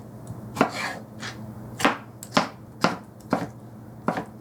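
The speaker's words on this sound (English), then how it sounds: "I just cut this into thirds and then just give it a chop" Knife chopping food on a cutting board while preparing ingredients for Polish pickle soup, cutting them into small bite-sized pieces: about eight sharp, close chops in an irregular rhythm, with no talking.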